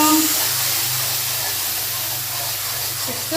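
Spice paste frying in hot oil for a meat and potato dish, a steady loud sizzling hiss that continues through the whole stretch, with faint clinks underneath.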